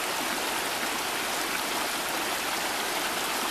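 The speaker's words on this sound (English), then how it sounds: "Here's the little footbridge that goes across Mill Prong Creek" Mill Prong Creek runs beneath a small footbridge beside the President's quarters at Camp Hoover in Shenandoah National Park, giving a steady, close, broadband rush of flowing water with no breaks and no voices.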